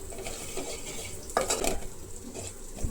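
Spiced onion masala with turmeric, chilli and coriander powder being sautéed in oil for a mutton kofta curry, with steady soft sizzling and a few scraping stirs of a spoon against the pan.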